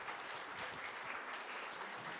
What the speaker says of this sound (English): So give these people a warm applause.